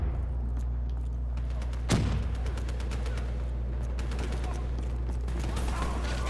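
Gunfire in a Call of Duty campaign, with a steady low rumble under it and a sharp blast near two seconds. Quick rapid shots follow in clusters later on, and a voice is heard faintly.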